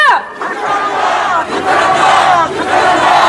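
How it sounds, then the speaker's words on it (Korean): A large crowd of protesters outside a police headquarters chants political slogans in unison, loud and sustained, with rhythmic shouted phrases rising and falling across the whole stretch. "한번 구호 외쳐보겠습니다"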